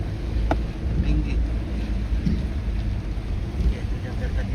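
Rain falling during a wedding makes a steady wash with low rumbling underneath, and a few brief knocks and clatters stand out against it, no clear voices.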